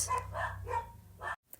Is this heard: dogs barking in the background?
yes